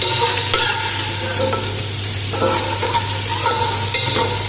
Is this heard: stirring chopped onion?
yes